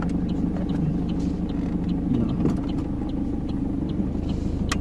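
A car pulls away and drives during a driving lesson with an examiner aboard, its engine making a steady, moderate rumble with a faint ticking pattern above it and no talk.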